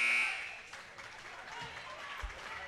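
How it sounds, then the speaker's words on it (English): A high school basketball game buzzer sounds loudly at halftime in a district tournament game, lasting about half a second, then gives way to crowd applause and announcer talk. "Brumball, shot from three at the buzzer"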